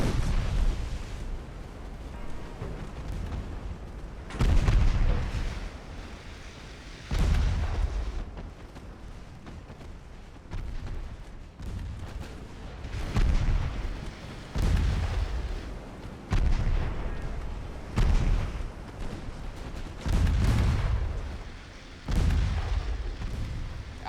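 Naval gunfire from battleship guns in the video game Ultimate Admiral Dreadnoughts: a run of heavy booming salvos, roughly every two to three seconds, each a loud low-frequency blast with a rumbling tail, and no talking.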